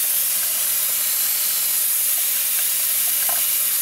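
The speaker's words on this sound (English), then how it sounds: "It's just pouring out of that cartridge." Water pouring steadily from a leaking American Standard faucet cartridge, a constant close hiss and spray with no talk over it.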